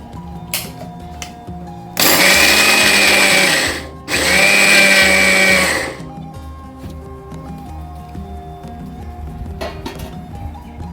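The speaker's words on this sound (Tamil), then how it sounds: "முதல்ல இப்படி ஆறுனதுக்கப்புறம் நிலக்கடலையும் எல்லையும் போட்டு அரைச்சிக்குங்க" A mixer grinder grinds roasted peanuts and sesame seeds for traditional sesame laddu in two loud, steady whirring bursts of about two and four seconds, separated by a brief pause, then stops, leaving quiet kitchen background.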